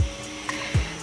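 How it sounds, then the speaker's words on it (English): A hood hair dryer runs with a steady, close whirring hum, broken by a couple of soft thumps partway through. "I'm gonna go sit under the dryer."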